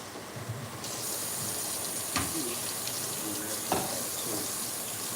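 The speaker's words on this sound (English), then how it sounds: "You said run some cold water." Cold water runs steadily from a tap into a sink, a continuous close hiss with a couple of brief clunks.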